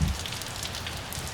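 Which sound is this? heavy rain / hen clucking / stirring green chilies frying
heavy rain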